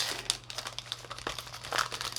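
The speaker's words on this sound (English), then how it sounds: "So, grab my trusty scissors yet once again." Scissors snip through crinkly wrapping on candy bites, giving a scatter of close, crackling crinkles and a few sharper tearing crunches across a couple of seconds, with no talking.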